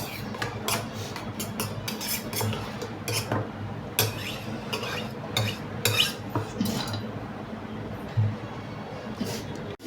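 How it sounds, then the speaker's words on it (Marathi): Metal utensils scrape and clink against a pan in steady, repeated strokes as food is stirred and mixed, close by with no talking. "छानपैकी मिक्स करून घ्यायचं"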